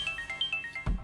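A telephone rings with a rapid, repeating electronic chirp, fairly quiet and steady, ending in a soft thump, with no one speaking.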